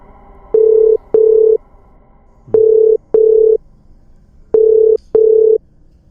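Ringback tone of an unanswered outgoing phone call: three clear double rings in an even rhythm, loud and close, separated by quiet gaps, with no voices.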